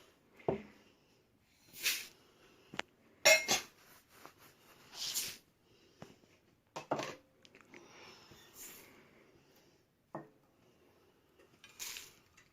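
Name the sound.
seed cracker ingredients being put together in a bowl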